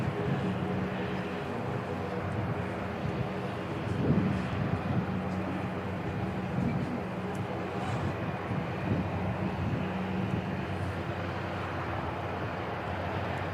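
Boeing 747-400 freighter departing Christchurch Airport, a distant low jet rumble with steady roar and wind buffeting the microphone, faint throughout.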